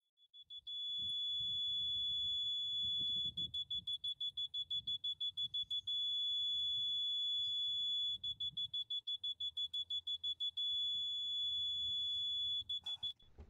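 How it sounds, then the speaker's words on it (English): A RYCOM 8879 locator in guidance mode giving high electronic tones, pulsing in rapid beeps at times and holding steady at others, over low muffled background rumble. "Guidance mode offers a pulsing tone on the left side of the target and a continuous tone on the right side."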